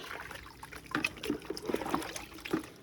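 Water is poured in short splashy trickles and dribbles, a series of soft uneven pours, fairly faint and close, with no talking.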